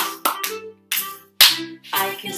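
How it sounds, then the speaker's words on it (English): Hands clap a few times in an irregular rhythm during a children's rhyme-time singalong, close and clear, with a sung voice and pauses between the claps. "I can clap my hands."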